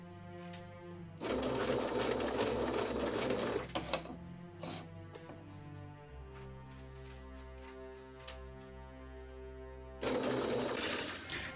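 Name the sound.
sewing machine sewing neck ties into a pillow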